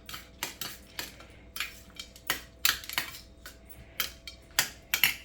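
A spoon scrapes and clinks against a dish while mixing canned cat food, with sharp, irregular taps and scrapes repeating roughly every half second, close and clear, with no voices.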